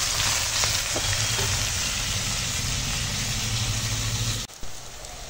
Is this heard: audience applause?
no